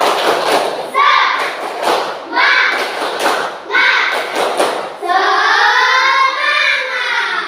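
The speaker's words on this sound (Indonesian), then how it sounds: "Nah, kalau semangat kita tepuk semangat dulu ya." Children in a classroom perform a rhythmic clapping chant, bursts of hand claps and thumps alternating with group chanting, ending in a loud sustained shout of voices close by.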